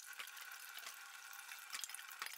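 Figs being rinsed under running water at a kitchen sink while making a spoon sweet, a steady close hiss of flowing tap water with a few brief clatters and splashes, no voices.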